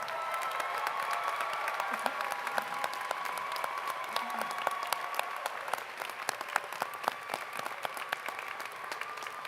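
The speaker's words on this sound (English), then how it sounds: "Graduates, stand up and look at these people who are applauding you." Steady, sustained applause from a large commencement audience honoring graduates, dense clapping continuing throughout at moderate distance with a faint crowd murmur beneath.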